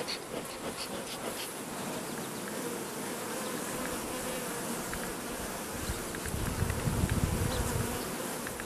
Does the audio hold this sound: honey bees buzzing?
yes